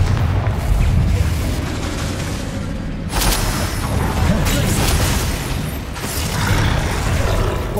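Fiery Confringo spell blasts go off in Hogwarts Legacy, each a sudden broadband burst over a dense rumbling backdrop of game combat. Two strong hits land a few seconds apart, loud and close.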